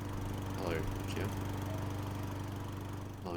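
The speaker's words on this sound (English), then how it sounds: "Mowing the lawn." A lawn mower from the video game Rodeo Clown runs as a steady droning engine hum, with voices talking over it.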